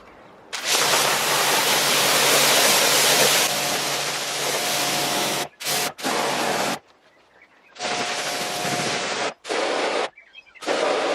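Pressurized water spray rinsing degreaser off a BMW engine bay, a loud, close, steady hiss that cuts off and restarts in several bursts of varying length, with short quiet gaps between them.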